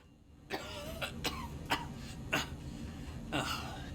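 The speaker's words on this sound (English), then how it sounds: "he was just stuck in his desk coughing his lungs up anyways" A man coughs repeatedly in short, harsh bursts in the Star Citizen video game, about five coughs spread unevenly over a few seconds against a low background rumble.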